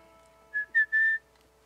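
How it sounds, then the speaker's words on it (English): A woman whistles along to a song, giving three short, clear, high whistled notes close up, the last one held longest, over a quiet musical background. "This is a fun one for you to whistle on."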